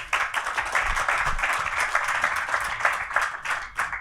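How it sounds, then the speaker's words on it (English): An audience at a panel talk on phishing and secure payments claps in a steady round of applause, dense and continuous for several seconds with no talk over it. "Let's give them a round of applause"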